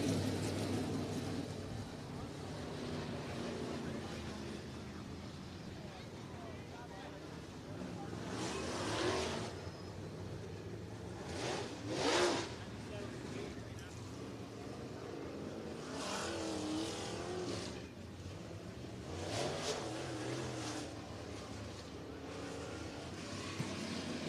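Race cars circle the Sunset Speedway Park oval in Banks, Oregon, their engines swelling and fading in repeated pass-bys at a distance, a steady roar under background noise.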